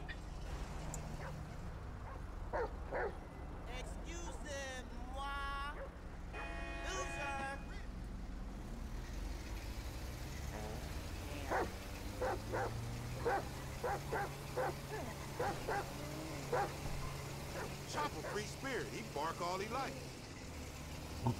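Dog barking and whimpering in Grand Theft Auto V gameplay, a run of short yips and barks repeating through the stretch, heard over steady game background noise with people talking at times.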